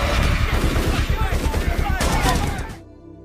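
Gunfire in a film shootout amid a zombie outbreak, dense rapid bursts of shots rattling continuously and loud, then cutting off abruptly near the end.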